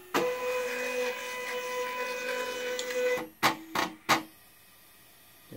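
A home-built pick-and-place machine homes its axes. Its motors hum and whir steadily for about three seconds, then three sharp knocks follow in quick succession as the axes reach their limit switches, and a quiet stillness comes after.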